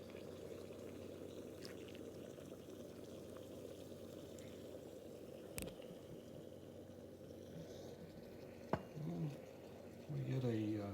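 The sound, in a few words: pouring hot espresso into a cup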